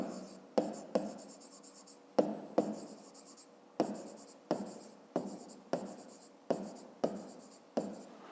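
A pen writes a math solution by hand on paper, giving a close series of short scratching strokes with small pauses between them. No one speaks.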